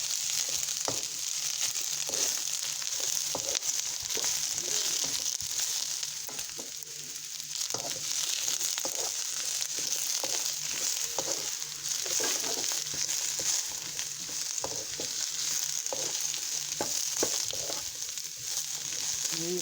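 Cabbage frying in a pan gives a close, steady sizzle that hisses on for about twenty seconds, dotted with small crackles and occasional light stirring taps.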